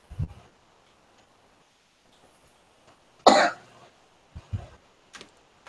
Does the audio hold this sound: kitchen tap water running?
no